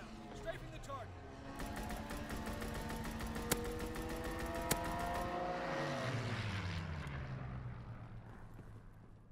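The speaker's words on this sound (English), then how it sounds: "Fighter pilot inbound. Strafing the target." A WWII fighter plane makes a strafing run in Call of Duty WW2 multiplayer: a steady, droning propeller engine holds throughout, with a couple of sharp bangs partway through and a gradual fade near the end.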